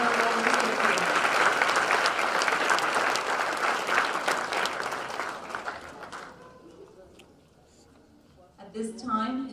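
A school awards audience gives a sustained round of applause for tenth grade honor roll recipients, dense and steady clapping that gradually fades out, followed by a brief voice at the end.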